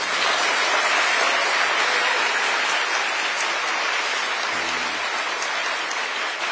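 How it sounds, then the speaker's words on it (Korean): Steady applause from a crowd, a dense even clatter of many hands clapping throughout, fairly loud and sustained with no voices on top. "박수도 한번 하세요."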